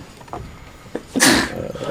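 A single sharp sneeze bursts out loud and close, following a couple of faint clicks in an otherwise quiet room.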